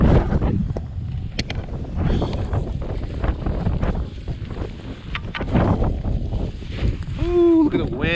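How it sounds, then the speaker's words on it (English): Strong wind roars across the microphone while a skier rides a powder run on the skier's-left side of Leeway at Mt. Bachelor, a constant, loud buffeting rush that covers everything, with a brief whoop of a voice near the end. "Ooh, look at the wind, dude."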